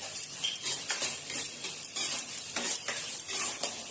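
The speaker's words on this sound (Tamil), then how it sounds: "இப்போ வதக்கி விடுவோம். நல்லா வதங்கணும்." Onion, capsicum and beans sautéing with salt in a pan, a hiss of sizzle broken by a regular series of metal spoon scrapes and taps against the pan, close and clear, with no voices.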